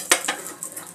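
Five-spice, a dried chilli and bay leaves drop into hot oil in a pan, a sharp crackle and brief spitting sizzle that quickly fades to a faint fry.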